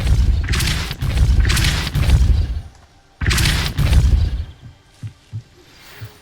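The Depulso spell is cast in Hogwarts Legacy, producing loud, deep booming blasts with a rushing, whooshing burst in several heavy pulses, then fading into softer low thuds.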